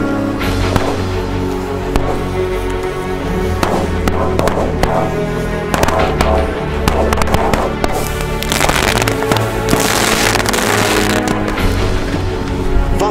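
Long chain of Funke China-Böller firecrackers (B and C types) bursting on New Year's Eve, a dense rapid crackle of sharp bangs with louder pops scattered throughout, continuous and close for the whole stretch.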